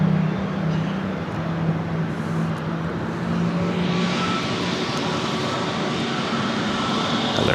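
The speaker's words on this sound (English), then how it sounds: "Another A321 Neo with Delta. It's flight 1045, taking off to Seattle." A Delta Airbus A321neo takes off, its jet engines producing a loud, steady broadband roar that holds constant throughout with a low droning undertone.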